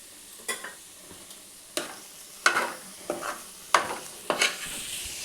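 Cauliflower and egg curry with coriander powder and fresh coriander is stirred in a frying pan: about eight sharp, close scraping strokes at irregular intervals over a faint sizzle, no voices.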